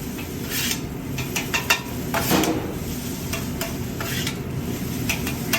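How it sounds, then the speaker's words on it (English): Fried rice being stirred and mixed with sauce on a hot grill, with a continuous close sizzle, scraping utensil strokes and occasional metallic clinks, and no voices. "as this sauce hits the grill, it's evaporating"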